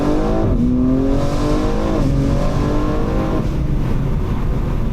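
A BMW M4 set to maximum exhaust burbles accelerates hard in first gear, its loud, rasping engine note rising continuously in pitch with no pause, heard up close.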